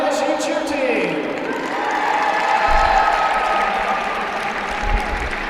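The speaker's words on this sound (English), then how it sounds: "Let's hear it one more time from the ISU cheer team." Arena crowd at a college gymnastics meet cheers and applauds for the ISU cheer team, sustained clapping with whoops and shouts, while an announcer's voice and music tones sit underneath.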